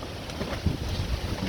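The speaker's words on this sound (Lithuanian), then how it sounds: "Vėjas tai žiaurus" Strong outdoor wind buffets the microphone in a steady low roar with gusty surges, continuous and loud throughout, with no voices.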